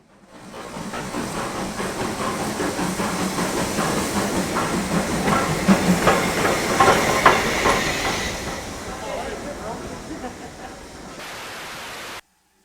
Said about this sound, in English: the locomotives still get a good workout on the steep grades